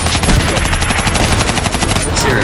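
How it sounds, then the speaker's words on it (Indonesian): Sustained rapid gunfire from a firing squad in the Sakura School Simulator game roars loud and dense, with a continuous, harsh rattle throughout. "Semuanya bersiap untuk menembak serang sekarang."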